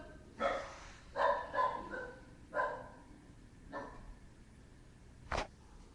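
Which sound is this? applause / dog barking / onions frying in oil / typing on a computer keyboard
dog barking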